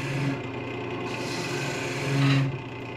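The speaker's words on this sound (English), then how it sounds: "I'll shave off a little wood here and shave off a little wood there" A woodturning tool shaves wood from a thin lamp shade turned from a log, giving a steady close rasping scrape that swells briefly near the end.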